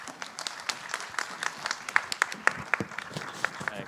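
Scattered applause at an Italian award ceremony, sharp individual claps standing out in a loose rhythm at moderate loudness across the hall, fairly sparse rather than a dense roar.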